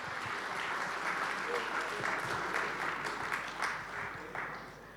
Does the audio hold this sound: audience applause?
yes